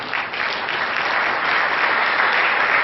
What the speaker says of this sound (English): Please can we clap for them.